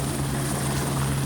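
Helicopter carrying a state lieutenant governor and education commissioner after Hurricane Ian, heard from on board as a steady, loud rotor and engine drone with a strong constant hum, no talk.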